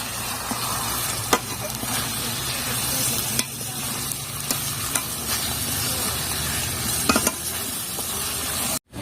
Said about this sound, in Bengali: এবার এর ভিতরে কাঁচা লঙ্কা চেরাগুলো দিয়ে দেবো।